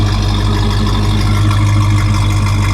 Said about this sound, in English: It's got a nice sound with the duals, just at an idle.